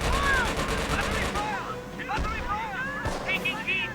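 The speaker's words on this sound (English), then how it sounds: "Why is this cannon firing?" An anti-infantry cannon fires in the Company of Heroes game amid a dense battle of rapid gunshot cracks and whistling shells, with talk over the top.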